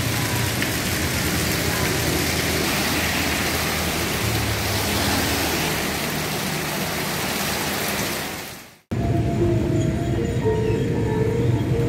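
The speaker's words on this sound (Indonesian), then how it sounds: "Lah ya, hujan." Steady, dense rain falls on a Jogja street in the late afternoon, a continuous close wash of patter. It briefly drops out partway through and then returns at the same level.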